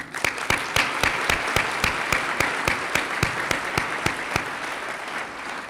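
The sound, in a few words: audience applause for the event committee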